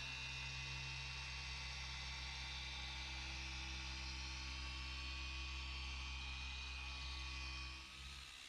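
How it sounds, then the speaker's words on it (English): A small car polisher buffs the bodywork of a Dodge Viper V10, its motor a steady, even whir with a tonal hum that holds for several seconds and then drops away near the end, with no speech. "we'll have to really scale back to some of the smaller polishers to squeeze in these tighter areas"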